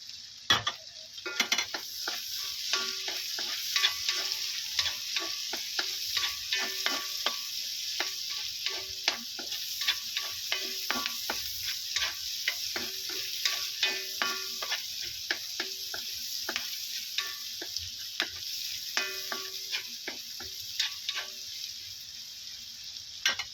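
Onions stir-frying in a pan for a restaurant-style dish, a steady close sizzle with repeated scraping and clinking strokes from the stirring utensil, continuous throughout with no talking.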